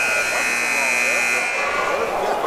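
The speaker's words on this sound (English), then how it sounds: "There's something wrong with that buzzer." A faulty basketball game buzzer sounds at the end of the first quarter of a Petersburg (VA) versus Southern (NC) game. It is a loud, sustained electronic drone that holds for about a second and a half, then fades into the gym's background noise.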